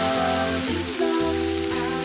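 Rain falls steadily on a summer afternoon in the Korean countryside, a dense hiss of drops on surfaces heard alongside soft, sustained background tones.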